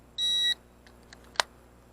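A Visuo K1 Pro drone being switched off gives one short, steady electronic beep, followed by a few faint soft clicks and one sharp louder click, heard close in a quiet room.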